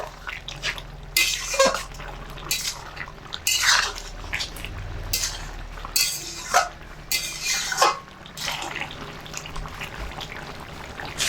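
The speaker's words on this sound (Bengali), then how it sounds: "জিরের গুঁড়ো আর চিনি দিয়ে শুক্তটা একটু নেড়ে চেড়ে দেবো" Shukto being stirred in a pot after cumin powder and sugar are added, a series of scattered ladle scrapes and clinks against the metal, close and fairly loud with pauses between strokes.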